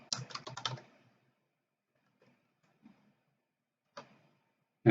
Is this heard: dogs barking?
no